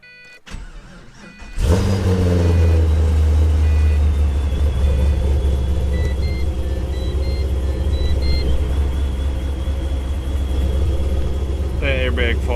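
Supercharged 2006 Pontiac GTO V8 cranking briefly, then catching with a loud roar and settling into a deep, steady rumbling idle, heard close up with a few chirps late on.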